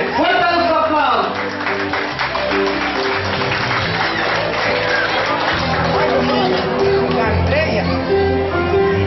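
An audience at a 2013 graduation diploma ceremony at Complejo Las Isletas applauds and cheers loudly and continuously, with an announcer's voice carrying over the crowd.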